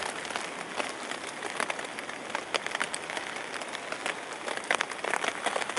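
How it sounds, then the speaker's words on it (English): Heavy rain pours down at a campsite, a steady dense hiss with scattered sharper drops and patters close by, continuous and fairly loud throughout with no talk. "Pissing down the rain."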